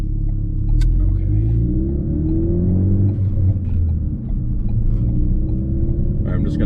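A Ford Focus ST engine drones and builds boost while driving in fourth gear near 1500 RPM, a loud low rumble with rising tones and faint sharp hiss bursts from the blow-off valve; someone talks over it.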